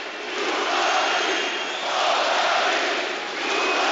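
A boxing arena crowd chants "Bulgaria" together with heavyweight Kubrat Pulev, a loud, dense wall of voices rising and falling in long sustained waves with no distinct individual speech.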